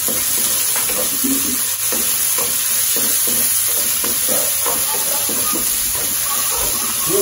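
Garlic sizzles steadily in a hot pan while being sautéed for beef picadillo, a constant frying hiss with occasional stirring scrapes throughout.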